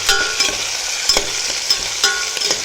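Onions sautéing in oil in a pressure cooker pan for wheat rava upma, a steady close sizzle broken by regular scraping stirs of a spoon against the pan, with no voices.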